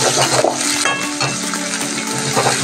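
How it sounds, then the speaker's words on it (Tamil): Onions and ginger garlic paste fry in a pan with a continuous, loud sizzle while a utensil stirs and scrapes, clinking against the metal now and then. "வெங்காயம் நல்லா வதக்கிற வரையும் நல்லா கிண்டி விடுங்க."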